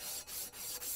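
Abrasive paper rubbing residual rust off shotgun barrels, three short quiet back-and-forth sanding strokes with brief pauses between, close and soft, no voices.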